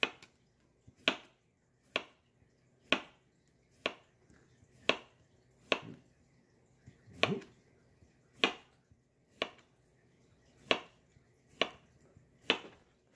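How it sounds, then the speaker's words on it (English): A knife slices cucumbers for a lunch salad, each cut a crisp, close tap on the board, about one per second in a steady rhythm, with quiet gaps between them. "So I'll go ahead and get a lot of slices of cucumbers"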